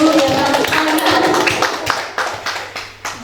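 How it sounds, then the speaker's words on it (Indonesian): Teachers at an elementary school session applaud together, a dense wash of many hands clapping that thins out near the end into a few scattered claps. "Boleh minta tepuk tangannya Bapak Ibu Guru"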